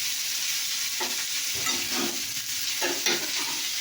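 Cut potatoes frying in a pan while being stirred, a continuous moderate sizzle with intermittent scraping strokes and no voices.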